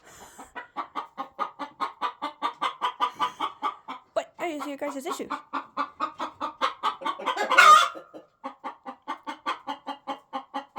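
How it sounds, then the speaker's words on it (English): Chickens, including a rooster, cluck in a steady rhythmic series close by, with a brief louder squawk near the end, while a person speaks once over them. "Y'all clucking?"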